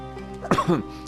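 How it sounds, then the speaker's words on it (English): A single short, throaty cough, close and fairly loud, against faint background hum. "That's a real cough coming in."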